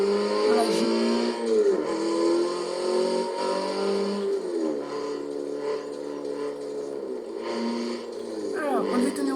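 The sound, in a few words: Opel Astra H OPC engine accelerating in video game Forza Motorsport 7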